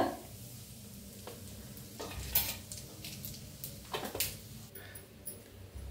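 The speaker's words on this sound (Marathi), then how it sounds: "आता तेल चांगलं तापले, त्याच्यात टाकूया एक चमचा जिरं।" Cumin seeds and asafoetida dropped into hot oil for a Marathi tempering, a soft background sizzle broken by several clinks and scrapes of a spoon against the pan, fairly quiet overall.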